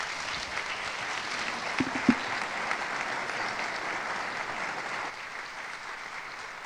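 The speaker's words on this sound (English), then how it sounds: "Let's have one more round of applause for Un and Sam" Steady applause from an audience at a college fall convocation ceremony, a broad even wash of clapping with a few louder claps early, fading gently near the end.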